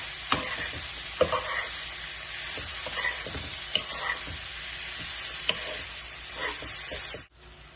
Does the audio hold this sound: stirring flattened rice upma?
yes